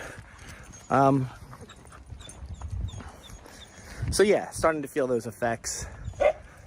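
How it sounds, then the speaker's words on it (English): A dog barks in a few sharp bursts, loud and close, overlapping a person talking. "Sorry for the dog barking."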